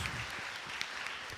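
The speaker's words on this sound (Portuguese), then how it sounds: "Mais uma vez, salva de palmas, por favor." Brief, steady burst of audience applause at a COP 30 themed event, dense clapping that fills the moment without any talk over it.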